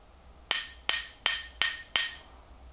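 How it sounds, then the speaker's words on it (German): Metal bone hammer from a WWI-era field amputation instrument kit, around the 1910s, struck five times in a steady rhythm, each a sharp, bright metallic clink with a short ringing decay, close and clear with no talk. "Das ist der dazugehörige Hammer."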